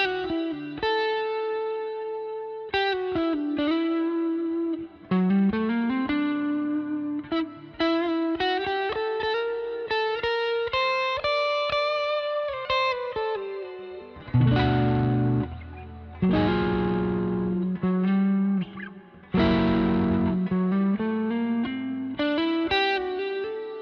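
Electric guitar played through a Fender Tone Master Pro amp model with an edge-of-breakup tone, chorus and reverb, picking a flowing run of chords and single notes for about twenty-four seconds, clear and close with no talking.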